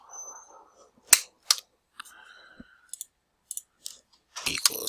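Calculator buttons pressed while entering a gravity calculation, a scatter of sharp, close clicks and taps in irregular rhythm, some sounding in quick pairs, with a short burst of denser tapping at the end.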